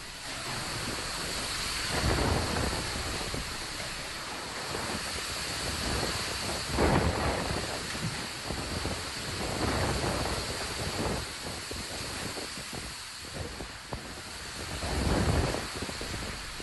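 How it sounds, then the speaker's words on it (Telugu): Heavy rain pouring in a storm with gusting winds and rolling thunder in Choutuppal, Yadadri Bhuvanagiri district, a dense continuous roar with surging swells and low rumbles throughout. "ఉరుములు మెరుపులతో భారీ వర్షం పడింది"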